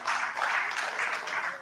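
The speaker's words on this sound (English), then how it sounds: "A round of applause for the chairman" Brief, moderate clapping from a seated audience at a memoir presentation greets the chairman, an even wash of hands lasting under two seconds.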